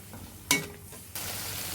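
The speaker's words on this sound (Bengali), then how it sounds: "এখন ভালোভাবে কষিয়ে নিতে হবে একটু জল দিয়ে দেবো যাতে মশলাগুলো পুড়ে না যায়" Spices sizzle in oil in a pan while being sautéed for a small-fish kofta curry, with a little water added. A sharp clatter comes first, then a steady, fairly loud hiss that begins abruptly and continues to the end.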